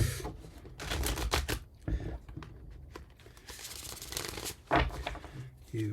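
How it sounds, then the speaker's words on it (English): Tarot cards are shuffled by hand in close, crisp riffling bursts, with papery flutters and slaps coming in uneven clusters over a few seconds. "One more shuffle."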